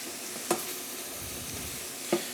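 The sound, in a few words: sauteing mushrooms in a pan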